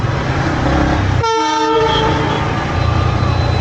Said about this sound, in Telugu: ఈ ట్రైన్ ఇక్కడ నుండి మనం నేపాల్కు డైరెక్ట్ ఈ ట్రైన్లో పోవచ్చు అనుకుంటా